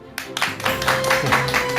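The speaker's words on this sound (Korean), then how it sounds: "큰 박수로 맞아주시기 바랍니다." A studio audience applauds at a Korean lecture talk show, dense continuous clapping that starts abruptly and stays loud, with a faint musical tone underneath.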